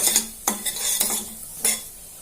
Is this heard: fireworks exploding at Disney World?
no